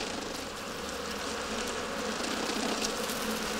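An enormous colony of some 30,000 bees nesting inside a hollow tree in a South Korean wilderness gives off a dense, continuous buzzing hum, close and unbroken throughout.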